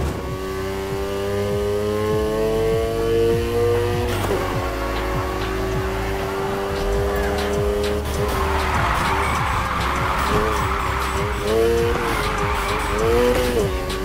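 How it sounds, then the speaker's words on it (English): In the Need for Speed Heat video game, a car drifts with a loud, sustained engine drone and long, screeching tire squeal that rises and shifts as the slide continues. "Now try and hold those drifts. Steer into the corner and hit the gas for more slide."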